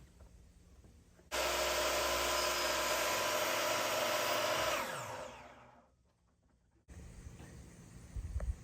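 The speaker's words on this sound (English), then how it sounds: "move the saw to a 45-degree angle. I prefer to cut a bit long and then sneak up on my mark" A miter saw set to 45 degrees slices through window casing trim: one loud, close, sustained cut of about three and a half seconds that spins down, then quieter room noise returns.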